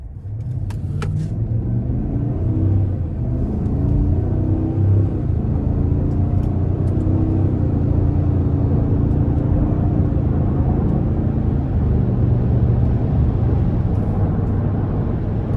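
A brand-new 2025 Cadillac Escalade ESV with a 6.2-litre V8 pulls away from a stop under light throttle, its deep engine drone rising steadily and staying loud and close for the whole stretch.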